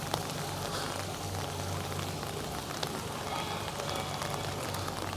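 Heavy rain falls in Hiroshima, a constant dense hiss of drops spattering on surfaces, steady and loud throughout with no voices.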